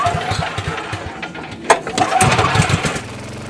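A small gasoline emergency generator engine catches after a pull start and runs with a steady, fairly loud, lawnmower-like chug close by.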